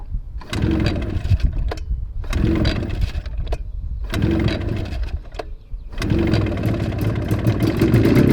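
A 670cc two-stroke go kart revving hard at full throttle on a track, loud and close, in repeated bursts of engine roar with brief drops between pulls, rising to a sustained run near the end.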